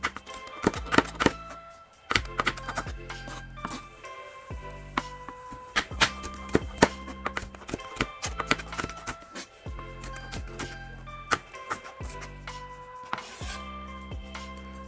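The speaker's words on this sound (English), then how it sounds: "Then we cut it into tiny threads" A knife slices a red bell pepper into thin threads on a cutting board, a close, uneven patter of crisp taps coming in quick bursts with short pauses between runs.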